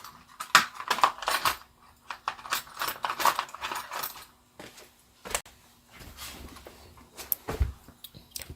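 Sewing snips trimming OESD cloth close to the stitching, a series of short crisp metallic snips and clicks in irregular bursts, near and isolated against quiet.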